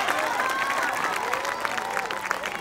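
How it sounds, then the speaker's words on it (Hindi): A short burst of applause from a school musical night audience at a stand-up comedy act, several people clapping together at moderate volume with some crowd noise. "तालियां,"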